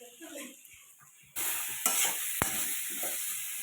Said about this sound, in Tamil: ஏன்னா இரும்பு கடாயில் தான் செய்கிறது, அடி பிடிக்கல அப்படியே மிக்ஸ் பண்ணி விட்டுன்னே இருக்கலாம்.